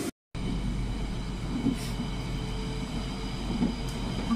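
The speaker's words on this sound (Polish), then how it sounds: "Ja właśnie czekam na metro i jadę na zakupy. Właśnie przyjechało." A metro train pulls into an underground station, its steady low rumble and rail noise continuous and fairly close, with faint squeals and clanks rising briefly over the drone.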